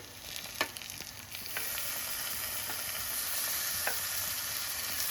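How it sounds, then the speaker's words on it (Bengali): Chicken pieces for Indian-style Begumoti chicken drop into browned fried onions in a pan and sizzle steadily, with a few sharp spatula scrapes and clicks as they are stirred. "আমরা পেঁয়াজগুলোকে হালকা বাদামি করে ভেজে নিয়েছি। এবার এর মধ্যে আমরা গোস্তগুলো দিয়ে নিচ্ছি"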